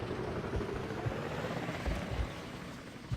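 A helicopter in the video game Battlefield Vietnam thumps with low, rhythmic rotor beats under a continuous rushing engine drone, close and steady throughout.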